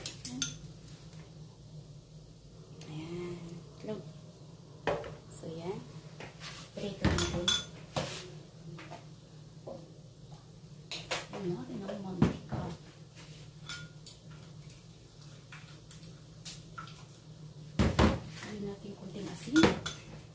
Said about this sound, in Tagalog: ito, nagbati tayo ng itlog.